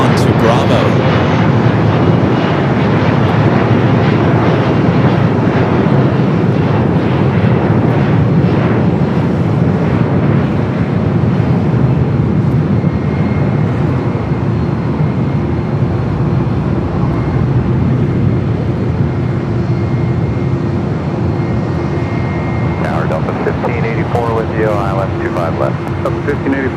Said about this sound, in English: Flight 2624 heading back to Barcelona in this A330-200, making that turn on to Bravo.